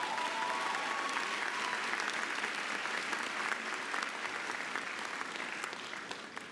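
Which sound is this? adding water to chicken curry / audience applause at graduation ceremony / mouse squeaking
audience applause at graduation ceremony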